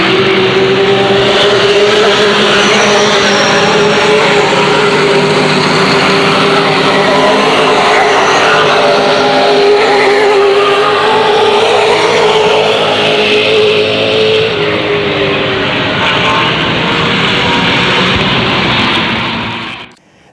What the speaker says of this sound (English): That's Larry Schuler in car number 30, joining the lead battle.